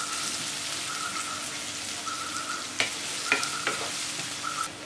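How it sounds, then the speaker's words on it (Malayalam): Onion and green chilli sautéing in a pan give a continuous sizzle, with a handful of sharper stirring clicks and scrapes near the end. "സവാളയും പച്ചമുളകും ചേർത്ത് നല്ലതുപോലെ വഴറ്റി കൊടുക്കണം"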